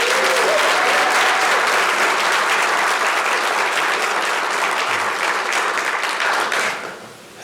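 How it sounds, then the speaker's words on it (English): Loud, sustained applause from an audience at a city strategic plan event, a dense crackling roar of many hands that holds steady for several seconds, then fades quickly at the end. "everybody give Jada a round of applause again"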